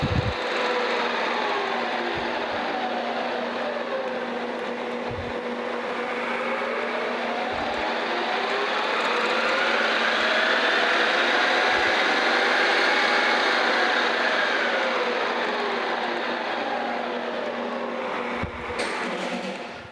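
A Rivett 1020S tool room lathe runs steadily in high gear on its open belt and Reeves pulley drive, a continuous close mechanical whine with a rising and falling tone, alone for the whole stretch.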